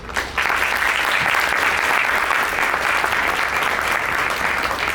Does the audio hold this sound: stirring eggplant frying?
no